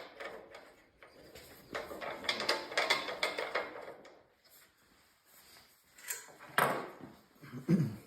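Bolts being tightened on a DP2 fence post assembly, with a run of quiet ratcheting clicks and metallic rattles, then a pause and a couple of louder clanks near the end, heard close in a quiet room.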